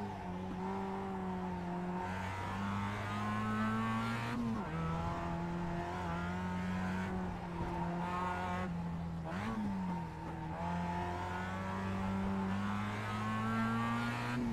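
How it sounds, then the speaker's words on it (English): Mazda MX-5 race car engine in the iRacing sim, revving steadily and loud with gear changes and brief lifts around corners, a constant harmonic drone filling the whole stretch with no talking. "I don't know why I'm really bothered by the sound of the engine."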